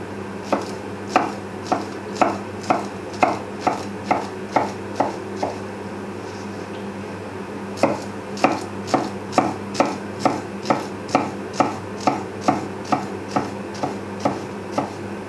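A knife slices a courgette thinly on a cutting board in close, crisp, evenly paced chops, two runs of rapid regular strikes with a brief pause between them, heard alone.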